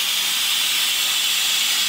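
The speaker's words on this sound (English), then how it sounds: "I'm going to do a quick release, but when you do that, make sure you throw a towel over it because honestly it sprays so much steam" An Instant Pot doing a quick release vents a loud, continuous hiss of steam close by, harsh and unbroken from start to finish.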